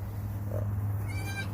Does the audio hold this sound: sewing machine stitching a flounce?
no